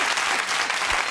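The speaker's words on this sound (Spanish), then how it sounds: "Aplauso para mí." Applause for a magician's act fills the moment, dense steady clapping from a live audience, loud and close throughout the short burst.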